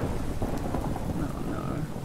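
In a Minecraft modpack game, rain falls steadily with a low rumbling thunder running beneath it, a dense and continuous storm wash heard alone.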